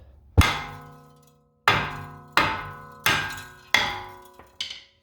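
A hammer strikes a rusted brake rotor on a GMC Terrain, six loud ringing metallic clangs spaced about a second apart, each decaying slowly.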